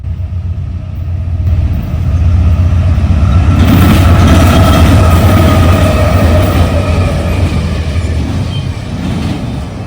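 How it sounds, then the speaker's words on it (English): A Norfolk Southern intermodal freight train on the Sandusky District in Lewis Center, Ohio thunders over track crossovers, with a loud steady rumble and rattling wheels that swell and hold close by for the whole stretch. "Flying over the crossovers on the Sandusky District under some ominous skies was NS Intermodal 28N on its daily journey between Chicago, Illinois, and Charlotte, North Carolina."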